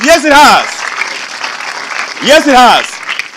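Studio audience on a Nigerian television quiz show breaks into loud applause in two bursts, with a voice speaking between and over the clapping.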